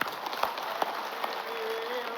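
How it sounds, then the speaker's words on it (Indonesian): An audience at an Islamic religious gathering claps briefly, a dense wash of applause with a few sharper claps standing out over a faint background tone. "tepuk tangan"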